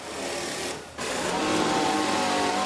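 Pit stop wheel guns in the F1 Manager 24 racing game on PS5 buzz in a sustained close whir, briefly dropping out before resuming, with no voices over it.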